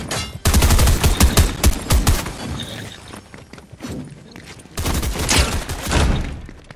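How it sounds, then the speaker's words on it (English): Gunfire in Fortnite, rapid close bursts of automatic shots in two dense volleys separated by a quieter stretch of scattered shots and thuds. "They're shooting at you."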